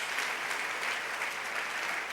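A church congregation claps together in a brief, dense burst of applause, steady and fairly loud without any talking over it.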